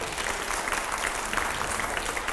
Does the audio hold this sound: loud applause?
yes